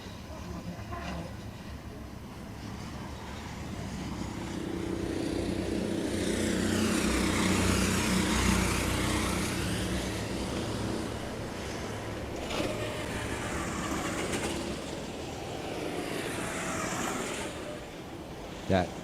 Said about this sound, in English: That those two carts you just heard, that is Alejandro and Camilo coming in.